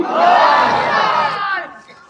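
A large crowd at an outdoor Bengali Islamic waz sermon shouts Allahu Akbar in unison in response to the preacher: one loud, sustained collective cry that swells quickly, then fades out near the end.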